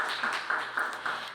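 Audience applause at the founding ceremony of a cyber security research institute, a steady wash of many hands clapping with a few sharper bursts, moderately loud throughout.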